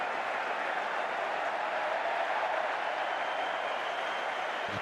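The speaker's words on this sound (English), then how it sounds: "a big crowd at the Melbourne Cricket Ground will cheer the first 100" Big crowd cheering at the Melbourne Cricket Ground during an Australia vs India Test match, a steady, distant roar of many voices that holds evenly throughout with no speech.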